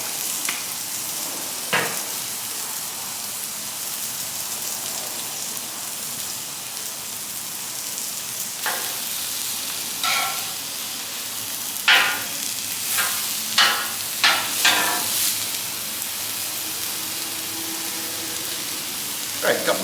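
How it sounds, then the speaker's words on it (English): Meat shanks for birria tacos sear in a hot pan with a continuous loud crackling sizzle, and bursts of sharper spatters and scraping rise near the end. "Gotta make sure we get a nice sear on these."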